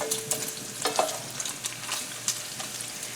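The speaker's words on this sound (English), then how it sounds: "But right now I'm cooking up bacon" Chopped bacon frying in an electric skillet with temperature control, a close, steady sizzle and crackle broken by occasional sharper pops and scraping stirs, with no voices.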